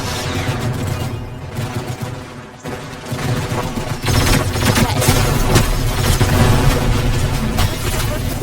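Rapid gunfire from a weak burst-fire weapon in a video game, loud and dense, continuing almost without pause as overlapping shots blur into a sustained clatter.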